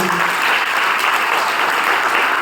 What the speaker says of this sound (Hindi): सभी एक्टर्स के लिए तालियां